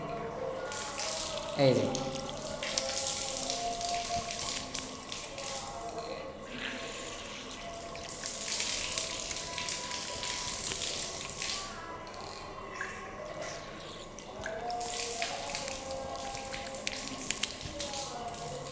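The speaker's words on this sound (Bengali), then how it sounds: "এরপরে বাম হাতের কোণে সহ 3 বার ধোয়া সুন্নত" Tap water runs and splashes as hands and forearms are washed during wudu, ablution before prayer, in uneven bursts of flow over skin, close by, while someone speaks over it.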